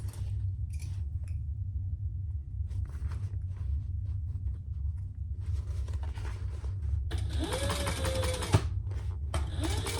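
A sewing machine back stitching at the end of a seam line while sewing a pattern, its steady low mechanical whir running throughout, with faint clicks and handling noise near the end.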